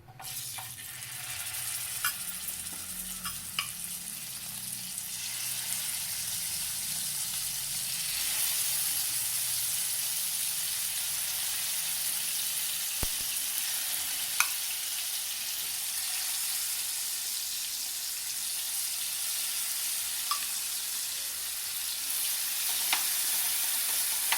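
Prawns coated in masala frying in a pan, a continuous bright sizzle and hiss held for the whole stretch, with occasional small pops and scrapes of stirring.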